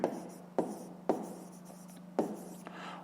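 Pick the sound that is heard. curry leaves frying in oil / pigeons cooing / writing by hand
writing by hand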